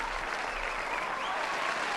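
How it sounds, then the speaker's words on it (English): Steady applause from a group fills a brief stretch of a live stream, a close, even patter of clapping hands with a faint low hum beneath. "Round of applause for Photo Joe."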